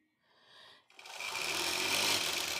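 A longarm quilting machine custom-stitches a quilt, its motor rising from a soft start into a steady, close, buzzing hum over a couple of seconds, without any talking.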